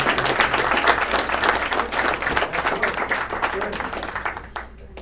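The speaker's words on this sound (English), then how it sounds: "Let's give her a round of applause" Steady applause from an audience at an office sales meeting, dense clapping filling the room and tapering off near the end.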